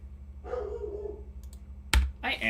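A dog barks once sharply indoors, a loud close bark followed by a short whine-like yelp, with faint keyboard clicks and a quiet voice earlier.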